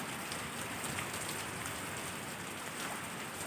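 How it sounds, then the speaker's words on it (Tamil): Heavy rain pouring down steadily, a dense, even hiss of water close by that holds at a constant level throughout, with no voices. "மழை வருது பாரு எப்படி ஊற்றுதா மழை"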